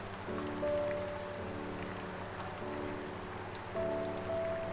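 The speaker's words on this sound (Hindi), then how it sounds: "6-7 मिनट लगते हैं इसको एक तरफ से फ्राई होने में।" Chicken frying in hot oil while being cooked for chilli chicken, a continuous close crackling hiss like light rain, with faint low hums running underneath and no talking.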